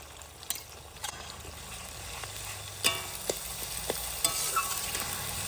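Ginger-garlic paste sizzles in a pan of fried onions for a village-style chicken curry, a steady low frying hiss broken by sharp clinks and scrapes of stirring, with no talking.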